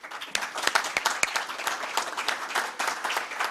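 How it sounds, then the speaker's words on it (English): A small group claps for the CMF team, producing a short burst of dense, uneven hand claps close by that continues throughout. "I would like if we can all give a round of applause to the team of CMF"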